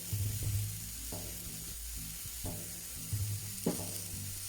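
Ground beef sizzling on a hot griddle for smash burgers, a steady close hiss with a few soft scrapes and thumps, no voices.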